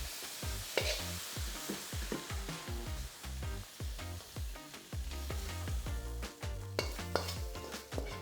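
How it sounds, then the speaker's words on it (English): Teriyaki noodles tossed in a nearly dry wok, a rhythmic series of metallic scrapes and clanks repeating about every half second over a faint sizzle, close and moderately quiet, no talking. "give it a couple of quick tosses and then out"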